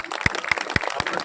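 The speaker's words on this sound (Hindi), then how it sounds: "जोरदार तालियां" Audience applause at a village felicitation ceremony in Rajasthan: a short, dense burst of clapping from a crowd, broadband and steady, with a few sharper individual claps standing out.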